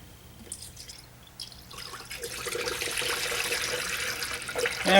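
Pre-diluted antifreeze for Asian cars pours into the radiator of a 2005 Toyota Corolla, a steady close liquid trickle and gurgle that grows fuller and louder over a few seconds.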